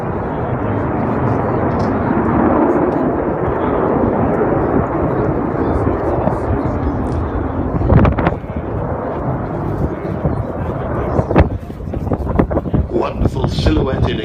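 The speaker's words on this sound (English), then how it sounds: "to keep this magnificent aeroplane flying" An Avro Vulcan XH558 bomber flies at the Throckmorton airshow in 2015, its loud, continuous jet roar rising and rolling past, with wind buffeting the microphone.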